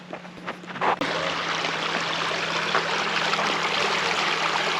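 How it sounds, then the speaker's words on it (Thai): A mountain stream in Switzerland rushes and burbles steadily nearby, a continuous broad wash of flowing water with a faint hum underneath. "อันนี้เป็นน้ำลำธารนะเพื่อนๆมาจาก บนภูเขาแล้วก็ไหลมาที่วน้า"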